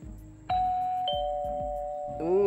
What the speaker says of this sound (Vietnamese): Có chuông cửa rồi kìa, để tôi ra coi ai.